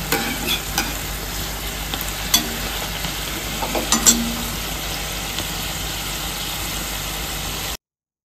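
Coconut karanji filling is sautéed in a pan, giving a continuous close sizzle with repeated scraping stirs and clinks before the sound cuts out near the end.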